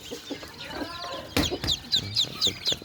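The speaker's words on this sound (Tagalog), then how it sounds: "Yung unang pisa ng mga sisiw" Newly hatched chicks give a rapid series of high, thin peeps, fairly faint and close together, over low rustling and soft background noise.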